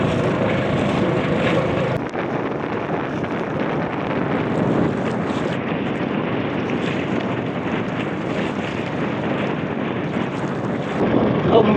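Wind blows steadily outdoors on a sunny, dry day, a loud continuous roar buffeting the microphone for the whole stretch with no speech.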